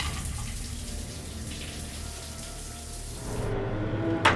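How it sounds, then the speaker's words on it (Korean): Steady rush of water from a shower in a home, spraying continuously at moderate level with a brief brighter splash near the end. "아무것도 모르는 세라는 샤워를 합니다"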